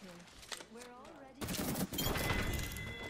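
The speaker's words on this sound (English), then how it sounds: "This dude shooting me with a sentinel, bro." A Sentinel rifle fires in the Apex Legends video game: a sharp, loud burst of gunfire cuts in midway after a stretch of talk, and the noise stays dense to the end.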